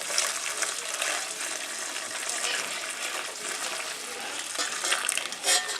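Chicken stock for a cream of chicken and thyme soup being poured through a sieve, a steady close splashing gush of liquid running on for several seconds without pause.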